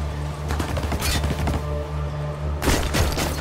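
Gunfire in the war shooter game Spec Ops: The Line: bursts of shots and booms over a steady low game soundtrack, with a heavy loud volley near the end.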